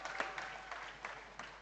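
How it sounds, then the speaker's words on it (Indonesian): Applause at an inauguration ceremony for a village organization's officers, faint and distant clapping from a seated crowd, soft and even with a few slightly louder bursts, over a short stretch. "Boleh tepuk tangannya."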